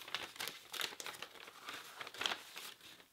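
A packet from a skateboard wheel box is torn open, with loud, close crinkling and crumpling of plastic wrapping in repeated bursts and no talk.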